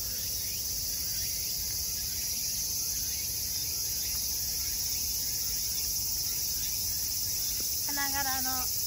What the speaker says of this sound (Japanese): セミが鳴いてますね。